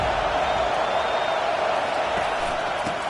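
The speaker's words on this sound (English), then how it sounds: "This crowd busting the decibel meter and trying to will a fourth down stop." A stadium crowd roars in a steady, loud wall of noise during a fourth-down stand in College Football 25, Florida Atlantic against Michigan State, sustained without a break.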